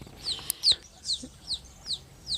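Young chickens give a run of about six short, high, descending peeps at a steady pace, fairly close and with no voices, plus one sharp louder chirp near the start.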